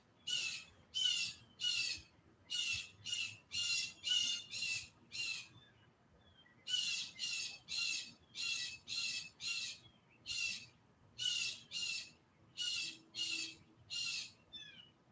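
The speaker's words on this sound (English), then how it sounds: "No, that's one of our birds in a tree squawking." A bird up in a tree squawks in a long run of harsh, evenly spaced calls, fairly loud and alone, pausing briefly once before the rhythmic squawking resumes.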